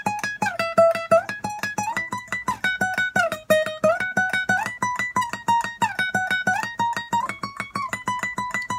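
A guitar plays the lead phrase of a bachata, a quick run of steady, evenly picked notes that repeat in a looping melodic pattern, clear and close, with no voices.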